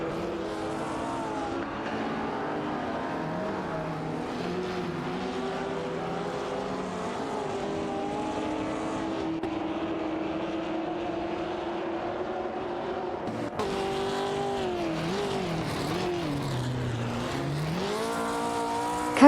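Race cars in an AI racing video game roar continuously, engine pitch sweeping up and down through gear changes and corners, loud and unbroken.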